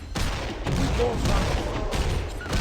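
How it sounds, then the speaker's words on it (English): Sniper gunfire rings out in a video game, a couple of sharp loud shots over dense, continuous in-game battle noise, close and forceful. "I'll snipe them down."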